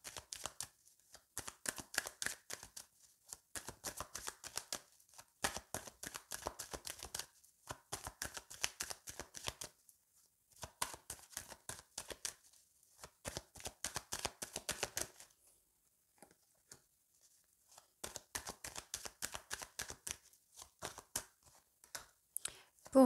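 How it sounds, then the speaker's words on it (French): Tarot cards being shuffled and dealt out in piles of five, crisp riffling and slapping bursts repeating in rhythmic runs with short pauses between, close and fairly loud with no talking. "on recouvre avec 5 cartes pour chacun"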